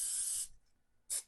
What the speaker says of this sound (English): I am going to give them a generous spray of cooking spray